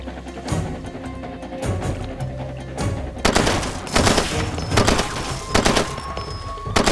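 Rapid bursts of gunfire in the video game Far Cry 2 crack repeatedly, with volleys and automatic fire in an irregular rhythm, loud and close.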